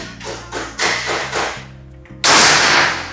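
A Rahwana V2 air rifle fires a pellet: several softer tapping knocks come in an uneven run, then one sharp, loud, close crack rings out near the end.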